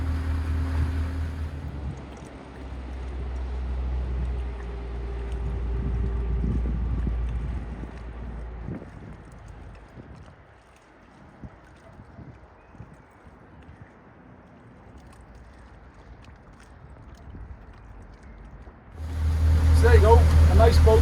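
A Regal 2665 boat with a Yanmar 240 hp Bravo III drive drones steadily at low cruising speed, with water and wind noise around it, easing off midway and swelling loud again near the end.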